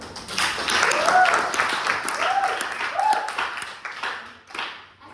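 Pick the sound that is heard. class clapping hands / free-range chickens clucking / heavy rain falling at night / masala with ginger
class clapping hands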